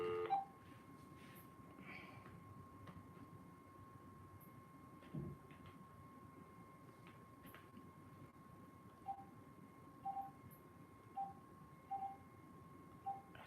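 Telephone keypad tones beeping one at a time from a phone during a live stream from Hunterdon County, NJ, a faint line hum underneath and a run of evenly spaced beeps toward the end.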